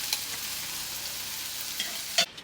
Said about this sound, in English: put the butter in there. About to start the French toast. It's going to be an easy process while that butter sits there and melts